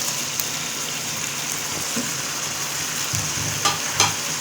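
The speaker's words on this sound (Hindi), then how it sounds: "अब हम इसमें चिकन ऐड कर रहे हैं" Chicken pieces fry for chicken Manchurian in a pan, a steady close sizzle like rain on a hot surface, broken by a few soft clinks and stirring scrapes.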